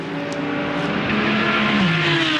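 GT race cars, including a Ferrari, racing on a track at GT World Challenge Australia in Darwin, a loud sustained engine roar with a rising and falling pitch as cars pass close.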